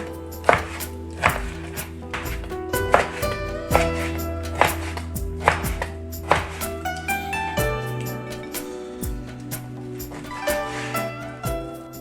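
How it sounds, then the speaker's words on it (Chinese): A knife chops beef brisket into chunks on a board, with sharp, steady chops repeating about every half second over tuneful background music. "牛腩切块"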